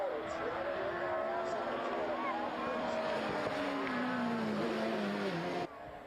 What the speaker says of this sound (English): Now check this out for a massive crash.